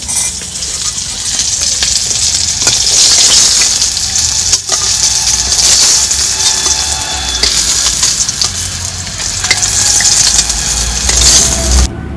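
Pieces of snakehead fish fry in hot oil in a pan, a loud, steady close-up sizzle and crackle with occasional stirring clinks throughout.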